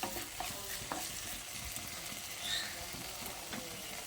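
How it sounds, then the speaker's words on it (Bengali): A vegetarian soybean curry is stirred in a pan, with a steady close sizzle and soft scraping strokes that carry on without pause and with no talking. "তারপর আবারও ভালো করে নেড়ে চেড়ে মিশিয়ে নিচ্ছি।"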